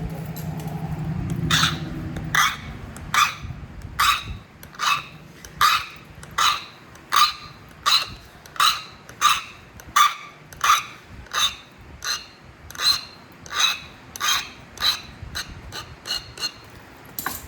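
Coastal chert arrowhead tip being sharpened during flintknapping, a close series of short scratchy abrading strokes in a steady rhythm, about two per second, after a brief low rumble at the start.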